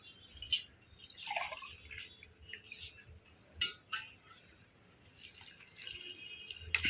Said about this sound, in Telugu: ఇంకో కొంచెం వాటర్ పోస్తాను.